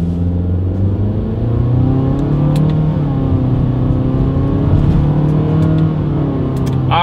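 A 2020 Honda Fit with a CVT pulls away from a stop in manual mode, its engine droning loud and steady with a rising hum and low rumble heard from inside the cabin.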